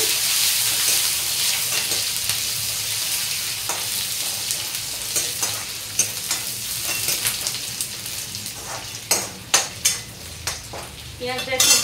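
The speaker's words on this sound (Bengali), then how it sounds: "এবার দিয়ে দেবো পেঁয়াজ। আমি হাফটা পেঁয়াজ কুচিয়ে রেখেছিলাম।" Chopped onion frying in a pan with dried chillies for garlic-onion masoor dal, a steady close sizzle with scraping stirs that grow more frequent and sharper toward the end.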